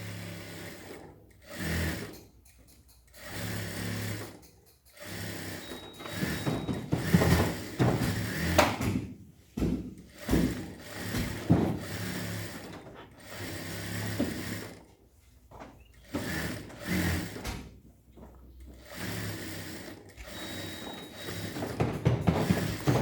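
A sewing machine stitching fabric, running in repeated short bursts with brief pauses between runs, close and fairly quiet, with no talking.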